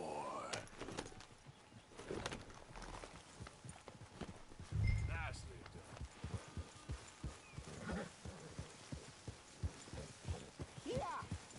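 Steady clip-clop of horse hooves in an uneven trot in Red Dead Redemption II, moderately close, with people talking over it and a brief thump midway.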